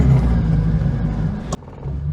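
A Reliant Fox engine struggling to idle with the choke fully on, a close, loud, uneven rumble with a slight wobble that suddenly drops away near the end, then a lower running tone.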